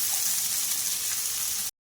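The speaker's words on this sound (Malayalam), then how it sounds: "നമുക്ക് ആ നെയ്യിലോട്ട് സവോള ചേർത്ത് കൊടുക്കാം" Four or five onions fry in hot ghee for chicken biryani, giving a steady, close, loud hiss that runs unbroken and then cuts off abruptly near the end.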